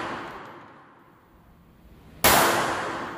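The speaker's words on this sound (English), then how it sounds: "This is such a loud gun" A single loud, sharp gunshot from a small Beretta Pico pistol bursts out near the end after quiet ambience, with a ringing tail.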